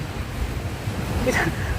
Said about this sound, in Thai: เงียบ เงียบสงบมีแต่คลื่นลมทะเล